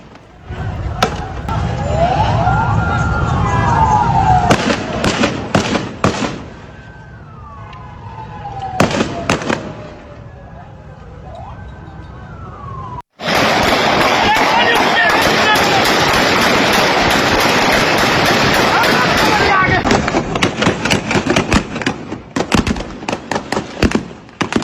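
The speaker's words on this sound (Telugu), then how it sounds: "ఒక్కసారి అక్కడ ఆందోళన జరుగుతున్న శబ్దాలను మనం విందాం." Street protest in Sindh, Pakistan, over water, with wailing sirens sweeping up and down and repeated sharp police gunshots cracking in bursts, loud and close, over a constant roar of crowd noise.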